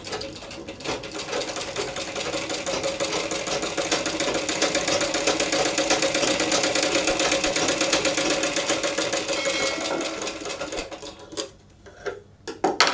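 A sewing machine stitches a puff sleeve border in a fast, continuous mechanical whir that runs steadily for several seconds, then slows and stops in a few short bursts and clicks.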